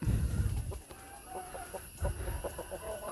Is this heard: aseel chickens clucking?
yes